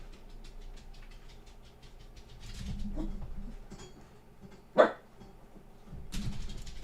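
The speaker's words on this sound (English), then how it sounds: "I don't know what he's barking at." A dog barks indoors in a single sharp, fairly loud burst, with fainter rustling and background noise around it and no talk.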